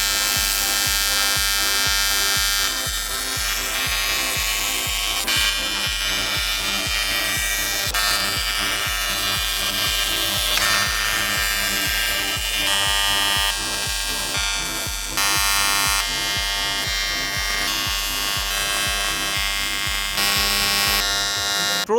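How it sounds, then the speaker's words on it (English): A TIG welder runs steadily while fabricating an airbox lid during a BMW diesel swap into a Land Cruiser, a loud, continuous electric buzz with a constant hum that holds for the whole stretch, with only slight changes and no speech. "and I could crack on with the TIG."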